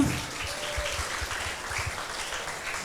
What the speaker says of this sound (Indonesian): Tepuk tangan untuk Mbak Inga.